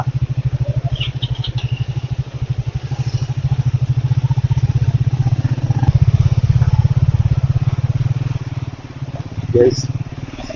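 A scrambler motorcycle engine thrums loudly and close with a rapid, even pulse, swelling briefly as the throttle rises, then easing off.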